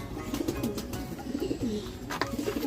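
Pigeons, a male and female pair, coo in soft repeated bursts while being handled, with scattered wing flutters and rustling close by; no one speaks.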